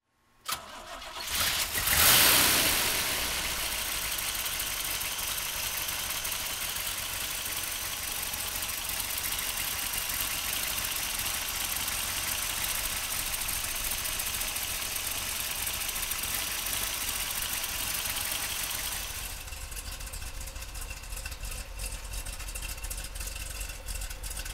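A 1968 Chevrolet Corvette with a 435-horsepower 427 V8 cranks and fires, then settles into a steady, loud idle close by that eases slightly near the end.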